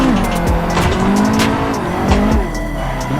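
A drift car in Assetto Corsa VR, set up like Adam LZ's Nissan 240, screams with loud sustained tire squeal and revving engine as it slides through a corner, no voices.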